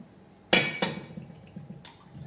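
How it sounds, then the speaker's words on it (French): Eggs cracked against a bowl for chocolate hazelnut brownie batter: two sharp, close knocks in quick succession, then a third crack a second later, with faint handling noise between. "Ensuite, on va casser les œufs."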